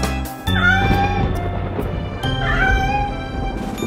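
Two drawn-out kitten meows, loud and close, separated by a short pause, with a faint tonal background underneath.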